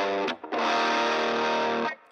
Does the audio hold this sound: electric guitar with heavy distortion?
yes